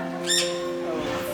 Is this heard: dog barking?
no